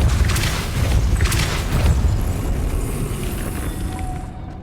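Depulso spell blast in the video game Hogwarts Legacy: a loud, booming, broadband whoosh that bursts out at once and then slowly fades away with a rumbling tail.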